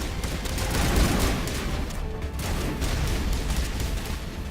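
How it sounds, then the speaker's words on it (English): Rockets exploding in a 2007 space RPG video game, heard as a dense, rumbling barrage of booms and blasts that rolls on continuously at moderate loudness, with a brief lull in the middle. "Watch out for the rockets."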